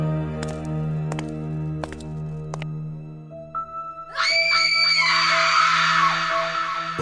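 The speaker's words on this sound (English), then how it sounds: "a scream tore through the air" A loud, piercing scream bursts out in a cartoon horror story, following a stretch of tense musical tones with sharp chime-like hits.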